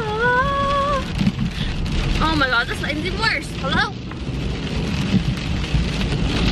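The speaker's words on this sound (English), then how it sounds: "Well, this rain is pretty bad." Heavy rain drums steadily on a car as it is driven, a dense continuous wash under a voice and some music.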